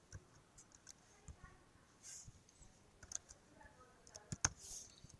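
Light, irregular keystrokes on a computer keyboard as data goes into a spreadsheet, a sparse pattern of quiet clicks and taps with short pauses between them, faint and close, with no talk.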